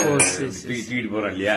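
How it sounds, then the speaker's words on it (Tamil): Metal vessels clink and rattle with a ringing, bell-like quality while a person talks over them, at a memorial shrine in Thalavaipettai. "கரகரம் சவுண்ட் வரும், மணி சவுண்ட்"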